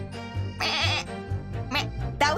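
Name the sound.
voice imitating a goat bleating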